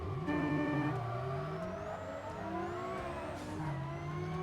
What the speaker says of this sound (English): Oh, you can hear the turbo now.